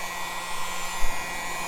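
Hair dryer blowing steadily while heating a vinyl decal on a DJI Mavic 2 drone case, a continuous close whooshing hum with a faint tonal whine and no talk.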